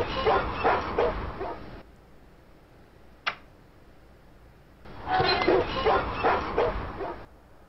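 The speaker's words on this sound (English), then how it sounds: "Let's hear those doggos." Cartoon dogs barking and yipping in The Simpsons: Tapped Out mobile game, coming in two dense bursts of about two seconds each, separated by a quiet gap that holds a single sharp click.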